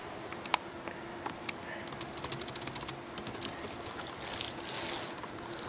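Typing on a freshly reassembled laptop keyboard, a quick run of light close key clicks over a faint room hiss, with a few scattered taps around it.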